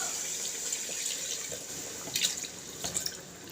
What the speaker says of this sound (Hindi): तो इस टाइम में इसमें पानी डाल दूँगी